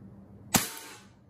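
A Beretta M92A1 CO2 full-metal BB pistol fires a single sharp, close shot, followed by a short decaying ring against a quiet background.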